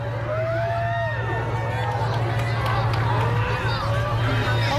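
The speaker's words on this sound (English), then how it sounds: "Listen to the crowd." During a total solar eclipse, a large outdoor crowd murmurs and reacts with overlapping voices, cheers and whistles at a steady level, over a constant low hum.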